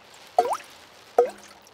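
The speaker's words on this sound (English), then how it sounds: "It is raining and the school roof is leaking again." Two separate drips of rainwater fall through a leaking school roof in a cartoon, each a clear wet plop about a second apart in a quiet room.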